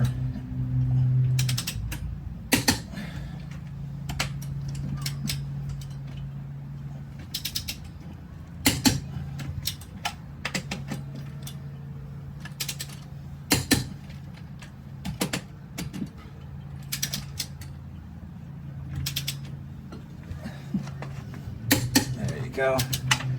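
Torque wrench ratcheting and clicking on the wheel lug nuts of a Corvette C5 during a wheel swap; bursts of close mechanical clicks and creaks spread across the stretch, separated by pauses, with a low hum beneath.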